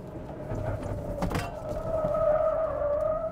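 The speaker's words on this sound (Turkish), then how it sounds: "Lastikler de çok güzel öttü." A 2024 Toyota Hilux pickup's tires squealing under hard braking on a road test drive, a sustained tonal screech rising over steady road and engine noise, loud and close.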